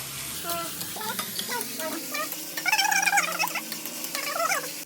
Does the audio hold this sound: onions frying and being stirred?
yes